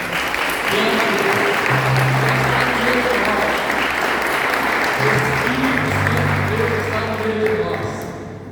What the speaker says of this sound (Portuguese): dá você aplaudir a presença do Espírito Santo